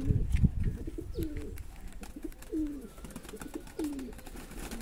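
Pigeons being sold in Jammu coo, with three or four low throaty rolling coos at regular intervals over faint background noise.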